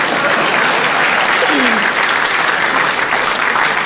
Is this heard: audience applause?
yes